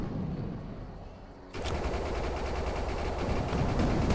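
Sustained rapid gunfire from shooting an enemy in the video game Defiance, starting abruptly after a quieter stretch and continuing loud and dense to the end.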